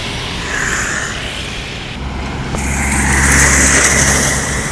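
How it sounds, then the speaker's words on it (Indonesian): A bus on the road toward the Sumatra toll road: a steady engine rumble that swells as the vehicle passes close by, with a brief hiss partway through and no voices. "Masuk ada unit bus ya dari arah terminal Alang Lebar menuju tol Sumatera"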